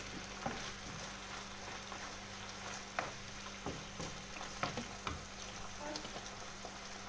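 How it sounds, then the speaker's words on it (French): A lasagne sauce with parsley stirred in a hot pan, a steady sizzle and frying hiss underneath occasional soft scrapes and knocks of the spoon, close and fairly quiet, with no talk. "Un autre petit coup de mélange"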